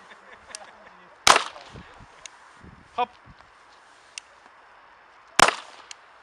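Two sharp .22 LR shots from an MP5 .22 rifle ring out several seconds apart, with a fainter crack between them and quiet outdoor background.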